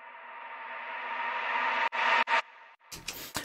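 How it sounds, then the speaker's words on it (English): A reversed reverb tail on a synth in a minimal drum and bass track swells steadily louder for about two seconds, then cuts off in abrupt stuttering chops and gated bursts. "Now that reverb tail comes from reverbing this once it's been reversed."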